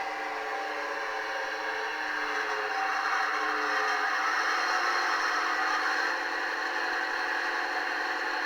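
A Deltic locomotive sound decoder on a model railway layout plays a steady, loud diesel engine drone with whirring and rattling tones that slowly winds down in pitch as the locomotive slows toward a stop, with no talking.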